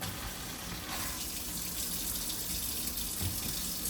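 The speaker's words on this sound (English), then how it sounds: "So what we're gonna do, run some water on there." Tap water runs steadily over raw meat being washed in a kitchen sink, a constant near hiss and splash with no voices.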